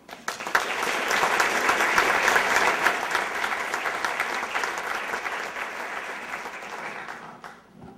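An audience claps steadily for about eight seconds to welcome a lecturer at the 100th Sibley Lecture at a law school, a dense, sustained round of applause that tapers off near the end.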